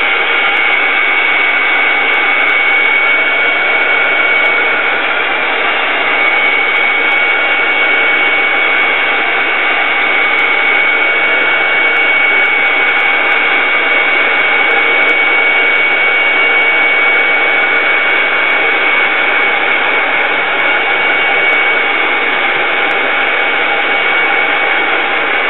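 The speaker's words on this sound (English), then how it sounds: "with the heat gun." A heat gun blows hot air onto a metal and rust tag, a loud, unbroken rushing whoosh that holds evenly throughout with no pauses.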